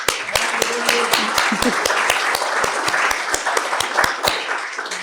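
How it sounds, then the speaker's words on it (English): An audience applauds the leadership engagement team at an alumni brunch, loud close clapping with individual sharp claps standing out over a steady wash, and voices mixed in. "while we are applauding"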